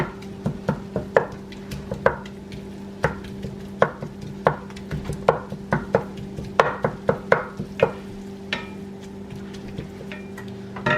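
A spatula breaks up chunks of meat in a pan, tapping and scraping in a quick, uneven rhythm of close, crisp knocks over a steady low hum.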